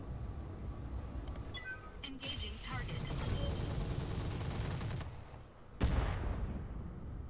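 Gunfire in the tactical shooter Roguepoint, a few sharp shots cutting through a busy game mix with music and effects, including a sudden loud burst near the end.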